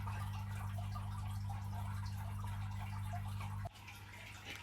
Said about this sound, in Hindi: हमारा ना एक्वेरियम के पानी ज़रा कम हुआ है, तो उसकी आवाज़ कंटिन्यूसली आती है हर वीडियो में